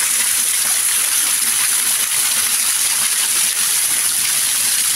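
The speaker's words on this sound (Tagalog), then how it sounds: "Waterfalls, maliit na tubig na lumabas sa mga bangil ng kabundukan." Clear mountain stream water flowing steadily over rocks, a continuous broadband rushing and hiss, close and fairly loud with no voices.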